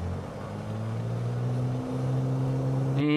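In Microsoft Flight Simulator 2020, a propeller aircraft's engine runs up to full throttle, a steady droning hum whose pitch climbs as it builds power, alone without talk.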